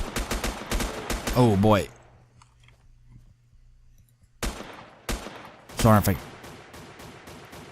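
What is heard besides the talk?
gunshots in the video game Next Day Survival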